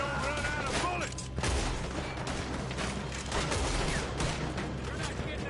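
A Red Dead Redemption 2 shootout crackles with repeated gunshots near and far, overlapping into a steady fusillade with sharp louder cracks scattered throughout.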